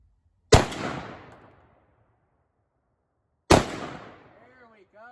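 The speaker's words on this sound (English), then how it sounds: "We're going to take another shot, see if we can hit that Mountain Dew bottle." An AR-15 rifle fires two sharp, close, loud shots about three seconds apart, aimed at a Mountain Dew bottle, each crack trailing off in a short echo, and a voice starts speaking right after the second shot.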